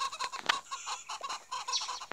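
Chicken clucking in a Roblox game, a run of short, sharp clucks and squawks in quick irregular succession, moderately loud and close, with no talking.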